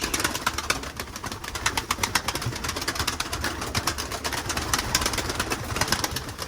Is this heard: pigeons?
yes